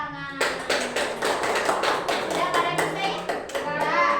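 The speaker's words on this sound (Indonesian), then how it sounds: "Oke, tepuk tangan." Rhythmic group clapping in a classroom during a microteaching session, a burst of children's hands tapping together in quick succession, close and fairly loud, with a short spoken question heard over it.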